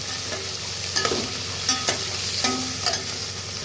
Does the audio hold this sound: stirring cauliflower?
yes